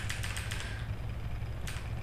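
A Ducati motorcycle idles in Project Gotham Racing 4, its desmodromic valvetrain making a fast, even tapping over a steady low engine rumble, with a short burst of extra taps near the end.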